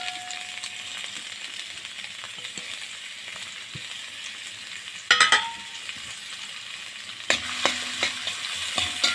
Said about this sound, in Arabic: وخرطنا بصلايه حطيناها كده على السمنه. هنقلبها بقى لحد ما تصفر